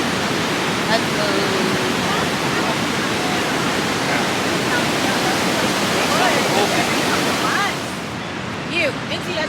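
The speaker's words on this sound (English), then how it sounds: "we're on the bridge now, walking towards the fall" Niagara Falls roaring from a bridge, a loud steady wash of rushing water that fills the whole clip, with faint voices and crowd sounds in the background.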